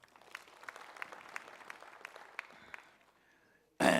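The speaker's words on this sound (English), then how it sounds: "Let's give them a big round of applause" A congress audience gives the caterers a round of applause, a thin spread of clapping with a few sharper claps standing out, fading after about three seconds before a loud burst of noise cuts in at the end.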